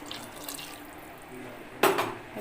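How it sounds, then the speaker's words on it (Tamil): Water poured into a pot of tamarind curry with small turkey berries, a short splashing gush near the end after a quiet kitchen background. "தேவையான அளவு தண்ணி சேர்த்துக்கலாம்"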